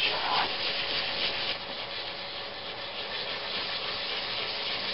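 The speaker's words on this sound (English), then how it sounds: "the sanding with the 150 grit sandpaper here is almost complete" Steady abrasive rubbing of 150-grit sandpaper on aluminum, a continuous hissing scrape close up, slightly softer after the first moment.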